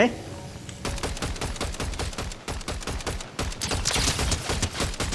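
Rapid automatic gunfire in the video game Fortnite, a dense, loud stream of sharp shots firing in quick bursts, with a player's voice talking underneath.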